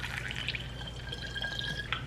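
Water trickles and drips as it fills the rest of a spray bottle for a homemade cleaner mixed with alcohol and castile soap, a soft steady liquid sound with faint glassy ringing.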